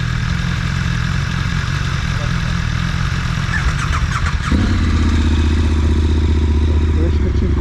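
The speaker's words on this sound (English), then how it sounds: "Get the bike warmed up." A motorcycle engine idles steadily while warming up on a cold morning, loud and close, with the pitch stepping up partway through as the revs rise and then holding at a higher, even idle.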